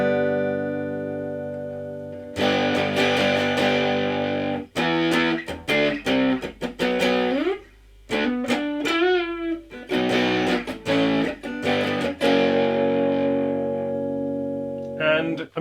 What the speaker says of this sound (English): I have one control right here, that if I roll this, we get distortion